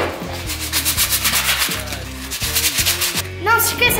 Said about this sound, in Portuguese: Ainda tenho muita coisa para lixar.